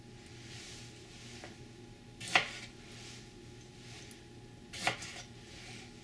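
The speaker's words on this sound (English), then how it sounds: "And now we're going to slice this into half moons." Two soft, separate knife cuts through pickled daikon radish being sliced into half moons on a cutting board, a few seconds apart against a quiet kitchen background.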